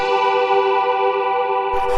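Analog-style synth keys held as a sustained chord, thickened with unison voices and chorus and washed in reverb and echo, for a trip hop track; steady and loud throughout, with no voices.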